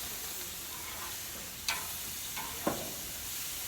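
Steak tips sizzling on a grill alongside potatoes, a steady close frying hiss with two sharper crackles as the pieces are flipped, no talking.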